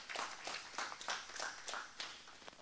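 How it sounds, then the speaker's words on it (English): An audience at a graduation ceremony claps, giving a light, somewhat distant round of applause made of a few soft, scattered clap bursts that taper off quickly. "A round of applause for"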